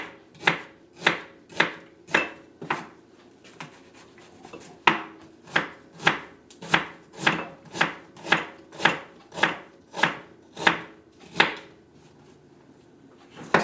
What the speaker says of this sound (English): Chop an onion.